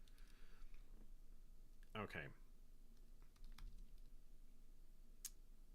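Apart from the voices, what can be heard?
typing on a new computer keyboard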